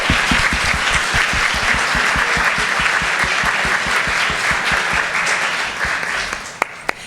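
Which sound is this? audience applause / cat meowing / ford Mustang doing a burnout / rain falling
audience applause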